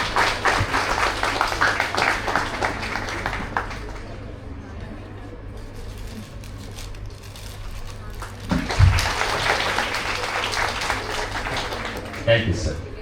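Applause from an audience at a felicitation during an introductory session at BITM Kolkata, heard in two bursts of clapping with a quieter stretch between, mixed with background chatter.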